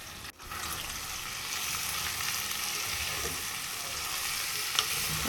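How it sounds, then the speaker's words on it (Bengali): Ground spices (cumin, coriander, Kashmiri chili, turmeric) fry and are stirred in a pan for coconut chicken, giving a steady close hiss and sizzle after a brief scrape at the start. "আর একটু ভাজা ভাজা করে নেব"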